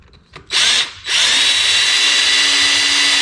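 A power drill bores out a stubborn broken bolt in an engine, a loud, close, high whine that starts in a short burst, stops briefly, then runs steadily to the end with no talk.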